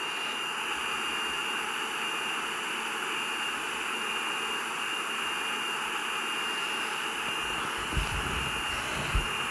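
Boeing 747 jet engines in the video game SimplePlanes produce a constant synthetic hiss-like roar with steady high whistling tones, unchanging throughout, broken only by a couple of brief thumps near the end.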